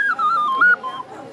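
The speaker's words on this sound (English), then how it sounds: "This is a shepherd's whistle or shepherd's flute." A small wooden shepherd's whistle, or shepherd's flute, plays a short, bright, wavering melody of a few sliding notes with breathy edges, heard up close at a village museum.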